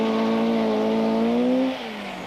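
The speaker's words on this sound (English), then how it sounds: "Hannu Mikkola gingerly feeds in 240 brake horsepower" A 1979 RAC Rally car driven hard, its 240 bhp engine holding a loud, steady high-revving note close by before the pitch drops away near the end, with no talk.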